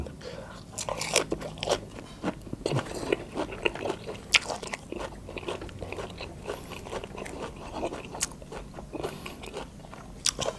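A person bites and chews crunchy raw vegetables eaten with bamboo shoot soup, close to the mic; steady crunching and chewing throughout with frequent sharp bites, under occasional faint voices.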